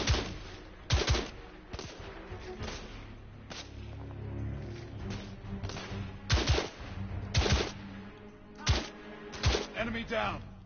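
Gunfire in the video game The Order: 1886, sharp shots and short bursts repeating irregularly over a rumbling game soundtrack, fairly loud, with a voice talking at times.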